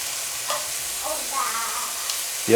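Meat sizzles loudly and steadily in a hot pan as pieces are flipped, a dense continuous crackle with faint scraping touches and a brief louder knock at the end.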